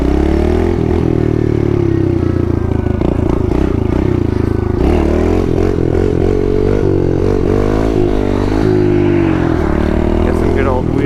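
A pit bike engine drones loudly and steadily while being ridden on a highway, with harmonic pitch wavering as the throttle rises and falls, plus wind rush and clatter.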